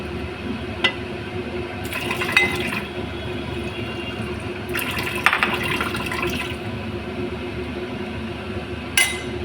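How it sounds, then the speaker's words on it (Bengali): Water pours into a pot in a few separate bursts over a steady background hum, with light metallic clinks. "জল দেব আর একটু জল দেবো"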